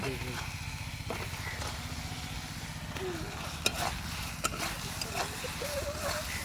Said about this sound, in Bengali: মশলাটা খুব ভালো করে কষে নেব